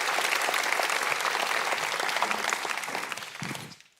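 Lively applause from a church congregation, dense steady clapping that fades out near the end with a brief voice-like sound as it dies away.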